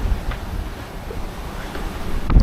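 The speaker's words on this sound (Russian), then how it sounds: "Ветер с океана." Ocean wind on a yacht sailing from Nanny Cay, Tortola toward Christmas Cove in the US Virgin Islands buffets the microphone as a low, rumbling gusty roar that swells toward the end.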